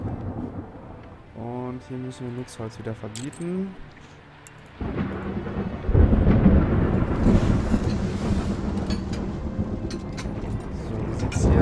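Thunderstorm with a lightning strike in the Caesar IV city-building game: a loud, broad rumbling crash rises midway and keeps rolling under background music while someone talks over it.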